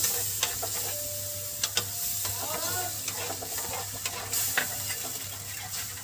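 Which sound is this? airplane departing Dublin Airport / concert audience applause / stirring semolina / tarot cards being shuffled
stirring semolina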